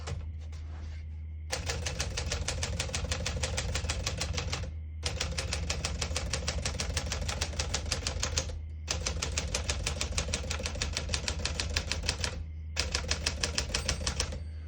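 Rapid, steady keystrokes clack on a vintage portable manual typewriter in several long bursts, separated by brief pauses as the carriage returns; no voices.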